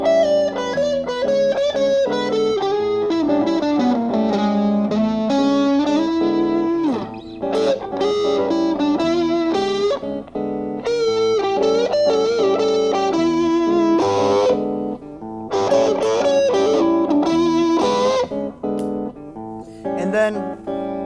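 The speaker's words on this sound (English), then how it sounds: "Can add the distortion pedal." An electric guitar played through a distortion pedal over a looped chord progression, sustained gritty notes and bends weaving in a continuous solo with brief gaps, loud and close.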